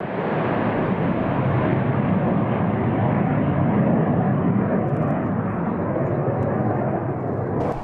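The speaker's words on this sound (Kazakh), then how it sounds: "Жүргізуші ұшақтар тапсырманы орындау үшін Қарағанды, Шымкент және Талдықорғанда орналасқан әуе базаларынан ұшып келді." Military jet aircraft flying in an air defense exercise over the Karaganda region, a loud, steady broadband roar of engines sustained throughout with no talk.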